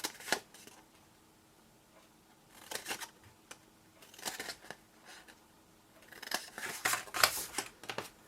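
Scissors snipping small paper tabs for a skinny card box: short, faint clusters of crisp cuts separated by pauses, quiet and close with no talking.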